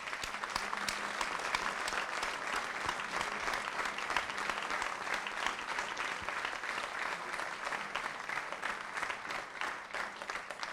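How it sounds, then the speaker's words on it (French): Sustained applause from an audience honoring the salaried staff of six networks at a closing session on work-integration workshops, steady dense clapping throughout with no speech. "je pense qu'on peut les applaudir bien fort"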